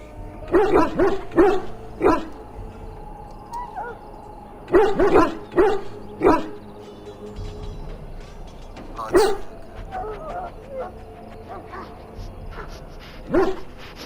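A dog in Dragon Age: Origins barks in short separated bursts with occasional soft whimpers in between, fairly close and moderately loud, with no talk over it.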